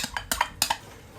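Coconut milk poured into a pot of Thai melon dessert over low heat, a few clinks of a utensil against the pot rim and some scraping, close and moderately loud, with no talking.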